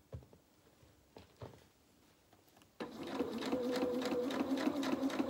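A sewing machine stitches a doll's T-shirt dress, starting after a couple of faint taps and then running steadily and close for the last few seconds, alone without talk.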